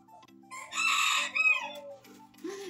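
A rooster crows once, close and clear, a rising then falling cock-a-doodle-doo with a short cluck at the end, heard alone with no talking.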